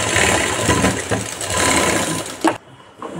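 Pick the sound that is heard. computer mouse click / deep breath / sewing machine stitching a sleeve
sewing machine stitching a sleeve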